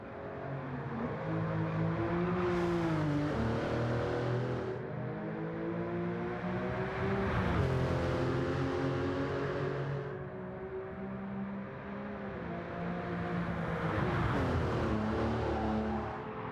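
Porsche 993 engine roaring in Gran Turismo 7, a loud, continuous flat-six note rising and falling through repeated revs and gear shifts, with no talk over it.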